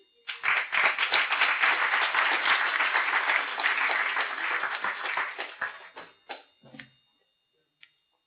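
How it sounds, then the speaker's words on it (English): Audience applause after a talk by a software company's partner-programs head: a sustained burst of clapping lasting about five seconds, then tapering into a few scattered claps before silence. "round of applause"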